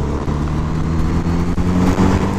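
Engine of a Kawasaki Z900RS motorcycle pulling in sixth gear at low revs, a loud, steady low rumble heard close up throughout, with no speech over it.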